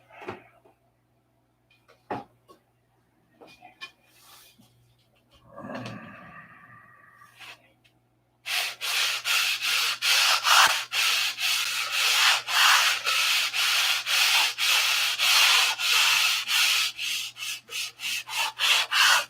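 After some scattered knocks and brief handling noises, steady rhythmic hand sanding begins: rapid back-and-forth scratchy strokes, close and fairly loud, continuing to the end.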